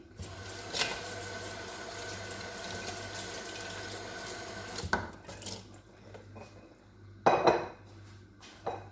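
Tap water runs steadily into a sink for several seconds while food is washed, then stops, followed by a few clinks and knocks of dishes.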